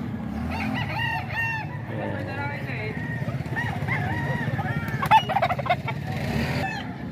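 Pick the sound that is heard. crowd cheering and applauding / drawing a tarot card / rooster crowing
rooster crowing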